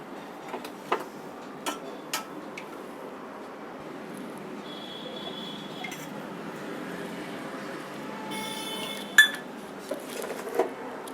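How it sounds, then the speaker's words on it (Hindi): Kofta ingredients (grated lauki, chopped green chillies and fresh coriander) are stirred together in a bowl, giving faint, sparse clinks and taps of a utensil against the dish over a quiet background. "इनको बनाने के लिए हमें सामान को मिक्स करना होगा।"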